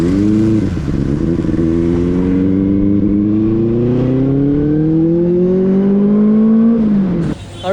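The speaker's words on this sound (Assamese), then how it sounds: "কিন্তু বাইকৰ চাউণ্ডটো ভালকৈ শুনি পোৱা যাব" A Benelli 600i motorcycle engine drones loudly and close while riding, its pitch climbing steadily through a long pull before dropping away as the throttle closes.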